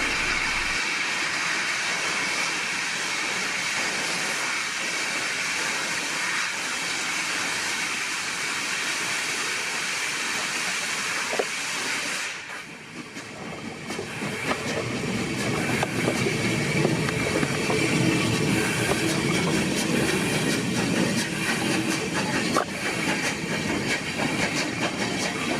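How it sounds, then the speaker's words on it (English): Steam locomotive Tangmere hauling a train out onto the Newcastle line, a loud, continuous rumble and hiss with wheel clatter that swells and grows busier midway through, with no one speaking. "here comes Tangmere, hauling her train out onto the Newcastle line"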